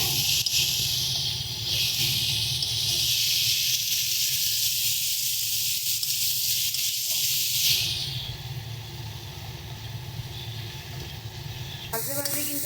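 Chopped tomatoes go into a hot pan of frying rohu fish curry masala and sizzle with a loud, steady hiss that eases partway through, with faint kitchen noise underneath.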